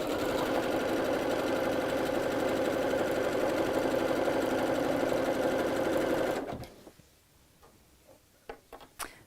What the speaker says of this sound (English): go to a zigzag stitch on your sewing machine,